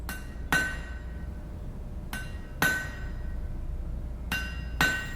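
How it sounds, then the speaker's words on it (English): Three sharp metallic bangs, each a quick double knock, strike at a steady pace as a door is forcibly removed, loud and close over a low background rumble. "Why are you trying to remove that door, Sergeant Warsh?"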